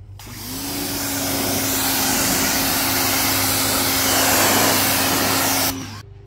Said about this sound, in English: here's a demonstration as to how the power washer works